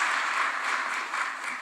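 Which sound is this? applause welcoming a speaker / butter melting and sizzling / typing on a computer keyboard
applause welcoming a speaker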